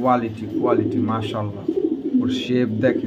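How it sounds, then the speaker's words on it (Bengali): A female pit racer pigeon coos in repeated soft, throaty phrases close by, while someone talks over the calls. "এটা মাদি কবুতর"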